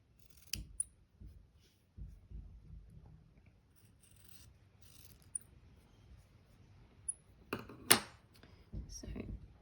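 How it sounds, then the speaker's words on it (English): Scissors snipping out an embroidered butterfly, a few sparse, quiet, close clicks and crisp cuts scattered among soft handling rustles, with brief sharper snips near the end. "maybe I'll snip out this butterfly"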